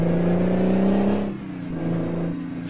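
A truck engine in Euro Truck Simulator 2 drones loudly with a steady low hum, then eases off and drops in pitch before building again.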